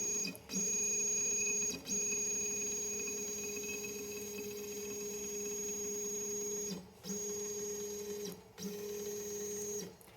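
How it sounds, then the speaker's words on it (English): A CNC router head traverses its gantry over the work area, giving a steady whining stepper-motor tone that stops and restarts several times in short moves, close and clear with no talking. "we need to do is move the router head to the bottom left corner of whatever the wood is going to be"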